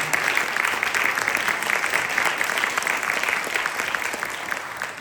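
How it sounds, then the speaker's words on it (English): An audience applauding at a concluding program session, a steady dense wash of clapping that holds for about five seconds, then eases slightly at the end. "Please give him a big round of applause."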